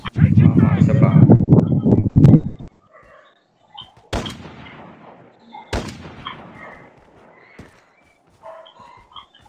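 Rockets and gunfire in Call of Duty Mobile come as a dense burst of loud shots in the opening seconds. Sharp blasts follow at about four and six seconds, each trailing into a fading rumble, with quieter game effects after.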